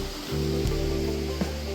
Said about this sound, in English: Alright, we're up by that waterfall.